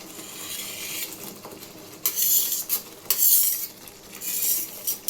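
A spoon scrapes and clinks against a pan as paneer is stirred into village-style palak gravy, soft sizzling beneath with bursts of louder stirring and metal knocks, no talking.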